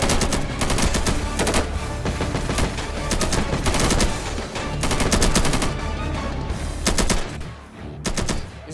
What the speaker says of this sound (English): Oh, this is a gunfight.